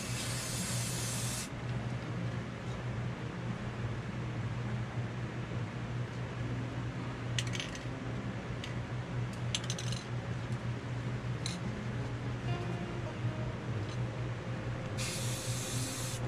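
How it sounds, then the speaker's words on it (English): Gray spray paint hissing from an aerosol can onto a rag in short bursts at the start and end, with faint workshop background between. "take the gray, spray it on a rag, and dab where the rocks are"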